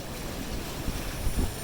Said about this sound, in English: These seas are just really rough, and we're pitching